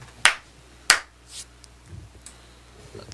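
Two sharp, loud hand claps about half a second apart, followed by faint rustles and small handling noises in a quiet room.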